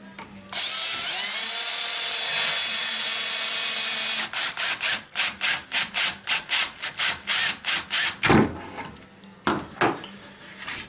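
A power drill drives screws into log and black cherry lumber for a dresser: one long continuous whir, then a quick series of short rhythmic bursts, loud and close, with a few final pulses.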